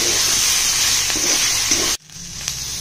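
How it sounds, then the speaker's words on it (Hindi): Masala with turmeric powder fries and sizzles steadily in a pan, loud and close, then cuts off abruptly to near quiet with a small clink. "अब इसको फिर से फ्राई करते हैं।"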